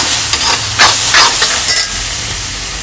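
Spice masala for a Malayalam stuffed chicken recipe fries and hisses in a pan while being stirred, with steady sizzling and several short scraping strokes, fairly loud and close.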